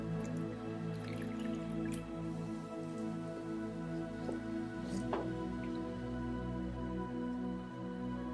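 Water drips and squishes softly while a face scrub is rinsed off with damp sponges, a steady run of small wet drips over a constant low background hum, with no talking.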